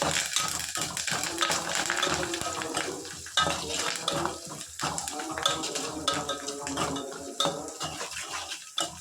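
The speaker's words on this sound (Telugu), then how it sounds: "ఏ కప్పుతో అయితే మనం సేమియాలు తీసుకున్నామో అదే కప్పుతో 1 కప్పు వాటర్ పోసుకోవాలి" Water is poured into a pan of onion, green chilli and curry-leaf tempering for semiya upma. The close, busy clatter of utensils and metal mixes with splashing water in uneven bursts.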